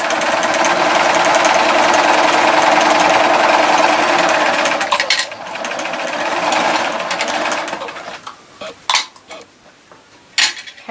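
A sewing machine runs steadily for about five seconds as a 3.5 inch strip is stitched onto a log cabin quilt block, then stops, followed by a few scattered handling clicks and taps.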